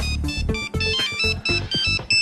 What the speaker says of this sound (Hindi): फोन उठाओ भारती